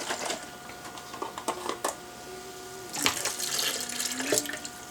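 Cold tap water running into a container for a summery drink, a steady splashing flow in a kitchen, with brief clinks and a louder surge partway through, no talking.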